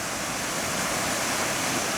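Floodwater from the Putatan River rushing through an opened river gate, a continuous loud roaring wash with no pauses and no voices.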